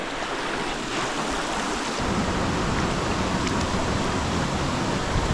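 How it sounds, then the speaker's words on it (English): A river swollen and muddy after heavy overnight rain rushes past as a steady, loud broadband roar, continuous and close, with the flow growing slightly fuller partway through and no voices. "We made it to the river."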